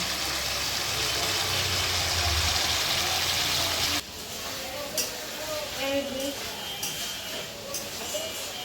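Bengali spice paste fries and is stirred in a pan for a leafy greens curry, a loud steady sizzling hiss for about four seconds that then drops to a quieter crackle with faint voices.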